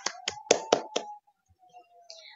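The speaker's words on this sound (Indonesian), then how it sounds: "Mari kita tepuk tangan untuk mengapresiasi teman-teman yang sudah mengikuti pembelajaran" A short round of hand clapping in appreciation at the close of a virtual class, about five sharp claps over roughly a second, fairly close, then near silence with a faint tone.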